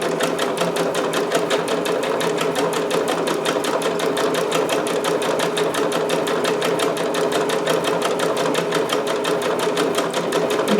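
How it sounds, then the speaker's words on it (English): A sewing machine runs a steady, rapid stitch over an interfaced fabric edge, loud and close, its even needle rhythm unbroken throughout. "I'm just going to start stitching over that edge"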